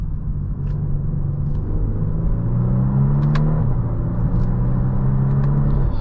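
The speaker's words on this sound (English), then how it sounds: "in Sport Plus mode, I think it has a really nice growl to the engine" A 2024 Genesis G70 3.3T twin-turbo V6 in Sport Plus mode gives a steady, deep engine rumble with a low growl that rises slightly in pitch midway, holding at a constant loud level throughout.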